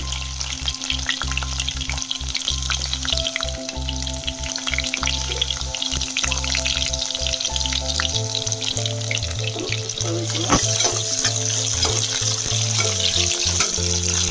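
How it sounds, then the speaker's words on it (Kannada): Onions drop into hot oil with mustard seeds, making a loud, close, continuous frying sizzle with stirring scrapes. The sizzle grows brighter toward the end, and no one speaks. "ಇವಾಗ ಎಣ್ಣೆ ಕಾಗಿದೆ, ಸಾಸಿವೆ ಕಾಗಿದೆ. ಇದಕ್ಕೆ ಈರುಳ್ಳಿ ಹಾಕ್ತೀನಿ."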